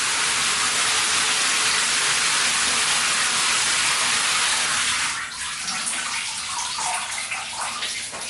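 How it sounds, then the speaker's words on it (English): Shower running in a bathroom, a steady loud hiss of spraying water that fills the room until about five seconds in, then gives way to a thinner, quieter patter and drip of water as the flow eases. "I'm just going to turn the shower off now because there's enough steam in there."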